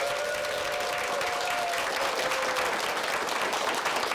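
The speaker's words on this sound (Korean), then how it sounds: "큰 박수로 환영해 주시기 바랍니다." A studio audience at a televised lecture breaks into dense, steady applause to welcome the Seomjingang poet, a continuous wash of many hands clapping at even loudness throughout.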